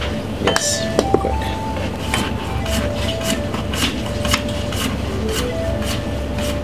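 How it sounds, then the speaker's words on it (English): Raw sunchokes are sliced thinly on a razor-sharp mandolin: a quick, steady run of scraping strokes with a few light clinks, fairly close and moderately loud. "So I'm just going to cut some really thin slices on this real quick."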